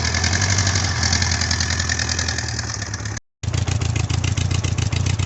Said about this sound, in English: she just idles real nice, purrs like a kitten